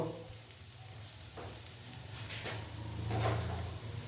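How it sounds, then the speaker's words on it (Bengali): Flattened rice (poha) is stirred in a pan for chire polao, with a soft background sizzle and a few faint scraping strokes of the spoon against the pan, quiet and close. "চিড়েটা দেওয়ার পর এটা খুব ভালোভাবে নাড়াচাড়া করতে হবে"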